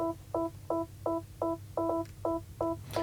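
A dry synth pluck layer in Logic Pro X, without reverb, repeats about nine short, evenly spaced notes in a steady pulse, each cut off abruptly, with no voice over it.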